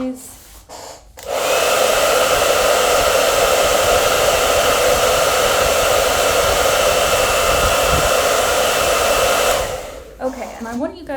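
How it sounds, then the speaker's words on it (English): Hairdryer drying acrylic paint: a loud, steady blowing roar switches on after a second, runs unbroken for about eight seconds, then cuts off, with faint sounds before and after. "now I'm going to just quickly use a hairdryer"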